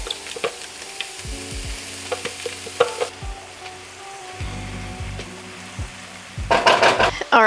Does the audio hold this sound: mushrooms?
yes